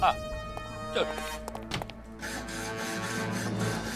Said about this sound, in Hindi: ये आरी भी तो सरकारी है, मर मर के चल रही है